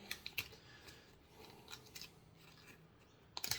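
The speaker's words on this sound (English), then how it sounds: "So you just open a paper, usually has a little bit of wax that seals it." Wax-sealed paper wrapper of a safety razor blade being opened, a few crisp crinkles and tears at the start and end with soft rustling between, close and quiet.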